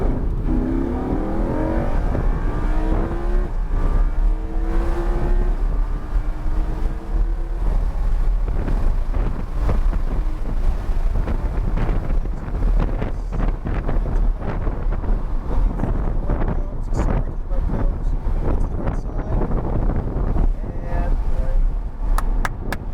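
A Lamborghini driven on the Homestead-Miami race track, its engine roaring steadily with rising revs, heavy wind buffeting and road rumble throughout, while an instructor talks over it.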